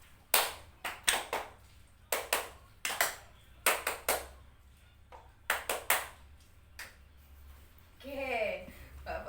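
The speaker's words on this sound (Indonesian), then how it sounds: "Kalau Bu Guru tepuk 1, kalian tepuk 2. Kalau Bu Guru tepuk 2, kalian tepuk 1." Students in a junior high classroom join a teacher's counting clap game, sharp bursts of single and paired claps in a stop-start rhythm with pauses between rounds, ending with children's voices.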